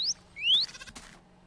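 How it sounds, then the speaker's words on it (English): A bird chirps in the video game Minecraft, two quick rising tweets close together, followed by brief soft clicking, otherwise quiet. "I think that bird just gave me a cat call."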